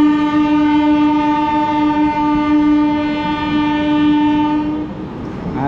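A train at Banaras station sounds a long, loud, steady horn blast close by, holding its tone for several seconds as the rumble of the moving train continues underneath.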